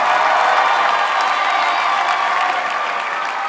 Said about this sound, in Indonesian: Mana tepuk tangannya untuk wanita?